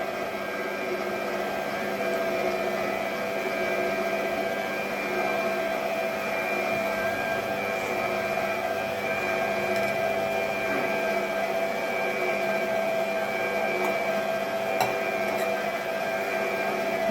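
An electric stand mixer runs steadily on its lowest speed, mixing cookie dough for Eid kahk, giving a constant loud motorized whine and hum with no breaks and no talking.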